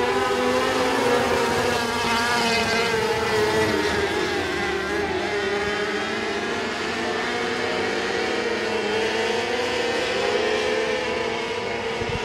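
NOW 600 race cars roar around Sabine Speedway in a feature race, a loud dense engine drone with rising and falling pitch as the pack sweeps past, steady and continuous throughout.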